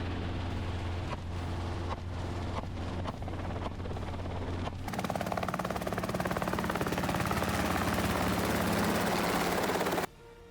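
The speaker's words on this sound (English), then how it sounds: "Helicopters flown by licensed gunners sweep across the vast countryside" A hunting helicopter carrying licensed gunners over open countryside drones loudly with a rapid rotor chop, growing louder and more intense partway through as it passes close, then cuts off abruptly near the end.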